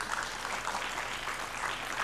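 A studio audience on the Countdown game show claps in a brief, steady burst of applause, even and sustained without any talking.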